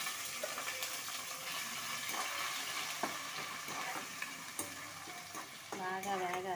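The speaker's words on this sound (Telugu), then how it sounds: "ఆనియన్ పేస్ట్ అనేది పచ్చివాసన పోయేంత వరకు వేగాలి" Onion paste sizzling and frying in a pan for dhaba-style rajma masala curry, with repeated scraping stirs of a spoon, close and steady, ending in a brief gurgling water-like burst.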